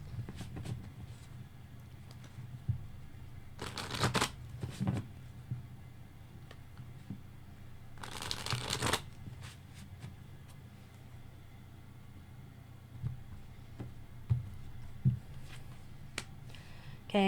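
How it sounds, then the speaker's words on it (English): Tarot cards are shuffled by hand, with quiet papery riffles breaking into two sharper flurries of card slaps against a soft, low background hum. "Let's make sure we get all of our cards flip-flopped around."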